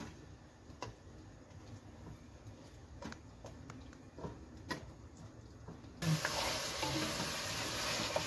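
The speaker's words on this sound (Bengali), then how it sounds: "গ্যাসটা লো ফ্লেমে দিয়ে ভালো করে মাটনটার সাথে মিশিয়ে নিচ্ছি।" Mutton for a Kashmiri rogan josh is stirred in a pan over a low flame, giving a soft, steady sizzle with scattered scraping clicks. The frying grows fuller and louder toward the end.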